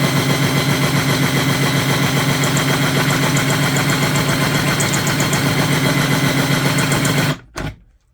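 A case trimmer spins steadily while trimming 30-06 rifle brass, a loud, even motor whir with a rattling texture that runs for about seven seconds, then cuts off abruptly with a short final clunk.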